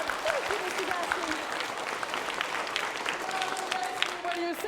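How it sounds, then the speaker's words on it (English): An audience applauding steadily, a dense patter of clapping hands that continues throughout, with a voice speaking over it. "Give him a round of applause"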